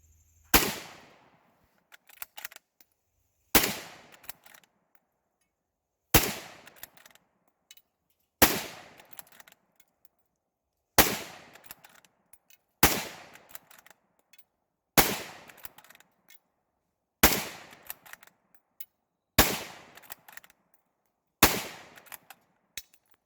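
A Ruger American Ranch rifle in 300 Blackout fires ten shots outdoors, each one a sharp, loud crack with a short echo, spaced a couple of seconds apart with faint clinks in the gaps.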